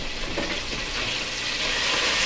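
Bolognese sauce with mirepoix cooks in a pan over medium heat while being stirred, producing a dense, even frying hiss that holds steady and swells slightly toward the end, with no voices.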